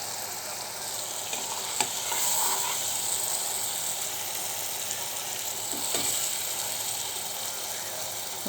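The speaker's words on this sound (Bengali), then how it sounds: "মশলাটা আর একটু কষুক," A spice paste fries in a pan before small fish are added, producing a steady hissing sizzle with occasional sharp spatula scrapes and taps, moderately loud and close.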